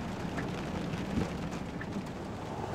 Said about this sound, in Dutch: We kregen net zulke grote hagelsteen op het dakje.